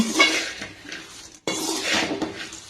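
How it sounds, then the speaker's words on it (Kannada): Hands stir powdered sugar through a spiced puffed-rice snack mix in a metal pan, giving continuous scraping, rustling and light clinks with a brief pause in the middle, close and fairly loud. "ಸಕ್ಕರೆ ಪುಡಿ ಹಾಕಿ ಚೆನ್ನಾಗಿ ಕಲಸೋಣ."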